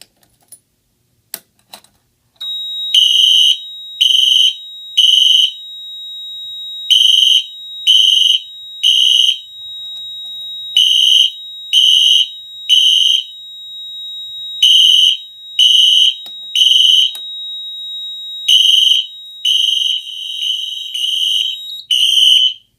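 Wheelock LED Exceder fire alarm horns blast in loud, evenly spaced bursts during a system test, grouped in sets of three with short pauses between, with a steady high tone running throughout.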